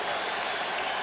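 A huge crowd of nearly 80,000 at a 1987 Bills–Browns football game in Cleveland Stadium cheers and applauds in a dense, distant roar, steady through the moment.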